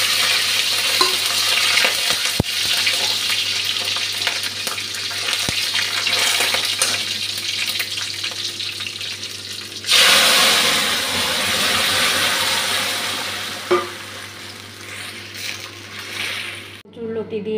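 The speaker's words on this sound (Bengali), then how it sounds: "লঙ্কাটা ভাজা হয়ে গেছে, তেজপাতা, কাঁচা লঙ্কা আর 5 ফোড়নটা দিয়ে দিলাম।" Whole spices, bay leaf and green chilli hit hot oil for a panch phoron tempering, giving a steady sizzle with brief stirring scrapes; the crackle flares louder partway through and continues to the end.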